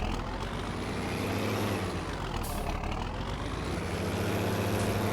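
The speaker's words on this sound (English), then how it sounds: "Great sounding tractor." A heavy Farming Simulator 19 video-game tractor engine runs steadily and loudly throughout, a deep continuous rumble with a brief hiss partway through.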